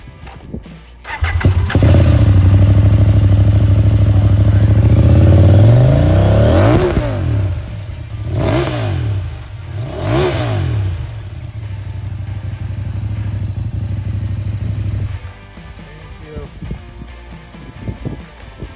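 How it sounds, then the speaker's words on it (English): Husqvarna Norden 901 adventure motorcycle with a Remus exhaust starts up loud and close, idles, then blips the throttle in several sharp revving surges before settling back to a rumbling idle and shutting off. "this is the Ramus exhaust"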